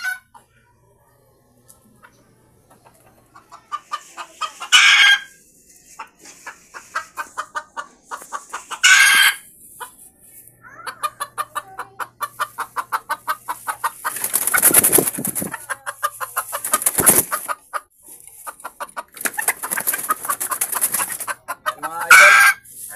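Red junglefowl hens cluck repeatedly in rhythmic runs, with louder squawks and bursts of agitated cackling rising and falling, fairly close and without talk.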